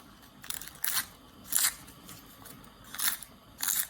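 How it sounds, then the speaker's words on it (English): Food preparation scissors snip slices for miso soup in a series of quiet, crisp cuts, about six separate snips spaced unevenly, close up with no talking. "cut little slices like that"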